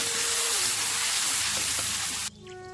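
Chopped onion and tomato frying in a pan for a Bengali besan vegetable curry, a loud bright sizzle that drops abruptly near the end to a quieter crackle, no voices.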